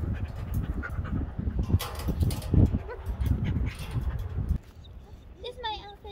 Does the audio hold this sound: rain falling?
no